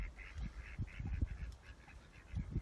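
Farm ducks quack repeatedly in a rapid, chattering series at moderate distance, with soft low thumps and rustling beneath.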